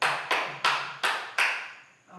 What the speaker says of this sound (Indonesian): Tepuk tangan bagi kelompok 2.